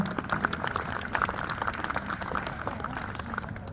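Wedding guests at an outdoor garden wedding ceremony clap together in a moderate, continuous patter. The applause sounds a little distant, and some murmuring can be heard in the crowd.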